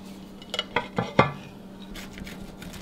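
A knife cuts through a warm, egg-rich Japanese pie, producing a few sharp clinks and taps of metal against a dish in quick succession. A quieter background follows.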